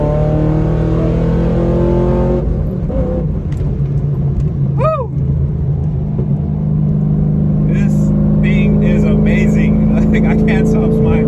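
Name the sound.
5th gen Camaro accelerating in third gear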